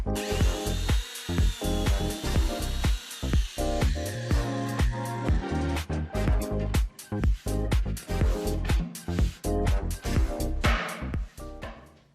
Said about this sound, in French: Placer un bloc de bois contre la bordure peut aider à bien fraiser contre le bord.